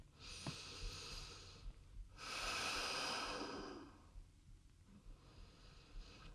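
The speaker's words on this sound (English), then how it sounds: "One deep breath." A single deep, slow breath during a gentle yoga pose, a long airy inhale and exhale close to the microphone against a soft background hiss.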